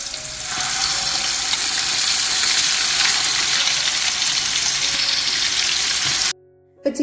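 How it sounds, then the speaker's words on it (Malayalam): Chicken pieces frying in coconut oil, a loud, close, continuous sizzle and hiss that holds steady for several seconds, then cuts off abruptly near the end. "ഇപ്പൊ ചിക്കന് ഫ്രൈ ആക്കി എടുക്കുകയാണ്. വെളിച്ചെണ്ണയിലാണ് ഫ്രൈ ആക്കി എടുക്കണത്."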